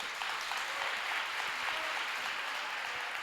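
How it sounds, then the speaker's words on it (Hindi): Assembled audience at an ashram admission festival and alumni gathering in Churu claps loudly, a dense steady wave of applause filling the space. "जोरदार तालियों के साथ बुलाओ।"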